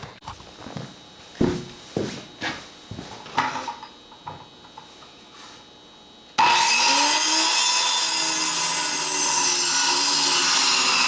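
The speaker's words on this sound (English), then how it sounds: "I'll take my skill saw and I will cut them into manageable tread-like sizes" A circular skill saw bites into a log to cut stair treads, a loud sustained whine that runs steadily to the end, preceded by a series of wooden knocks and handling thuds.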